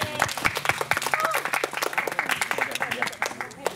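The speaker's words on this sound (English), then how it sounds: "Now, big applause for me." A classroom audience of students claps in a quick, uneven burst of applause, loud and close, with some voices mixed in.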